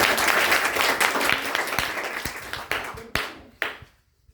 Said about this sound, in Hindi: रिया के लिए एक जोरदार ताली बनती है